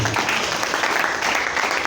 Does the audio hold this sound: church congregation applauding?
yes